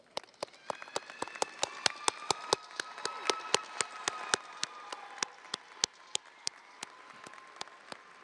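Sparse, sharp claps ring out at a spring college commencement, each crack distinct and evenly spaced over a soft wash of distant clapping, fairly quiet and with no talk.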